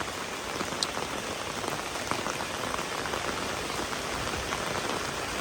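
Steady rain pours down outdoors in rural Thailand, a dense continuous hiss of drops on surfaces with no break, fairly close and even in loudness throughout.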